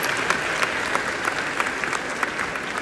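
An audience at the Emilio Aguinaldo College commencement exercises in Cavite claps steadily, a dense wash of applause filling the hall for the whole stretch with no voices over it.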